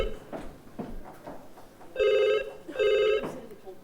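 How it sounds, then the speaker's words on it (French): Two loud bursts of an electronic telephone ring, each lasting about half a second, following brief speech, with a quieter room background in between. "Téléphone."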